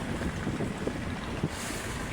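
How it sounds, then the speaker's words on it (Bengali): A passenger launch travels along a river in Bangladesh, giving a steady, loud rumble of engine and wind that sounds close and continuous. "লঞ্চ হচ্ছে চলমান"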